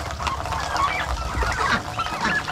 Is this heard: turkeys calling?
yes